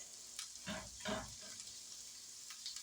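Garlic and ginger aromatics hit a tablespoon and a half of hot avocado oil, giving a few soft sizzling bursts that quickly settle into a faint, steady frying hiss.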